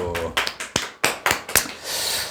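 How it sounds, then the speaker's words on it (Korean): Audience applause at a talk on insurance telemarketing careers: a handful of sharp, separate claps in an uneven rhythm, close and fairly loud, then a brief broader wash of clapping, with a voice heard briefly at the start. "네, 박수!"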